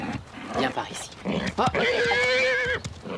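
A horse whinnies and snorts up close while a person speaks French over and around it, the drawn-out neigh rising clearly near the end.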